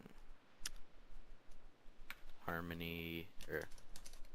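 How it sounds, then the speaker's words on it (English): Keys clatter on a computer keyboard in short irregular bursts, close and fairly quiet, while someone speaks briefly and a tonal chime sounds partway through. "So let's type what we want to type."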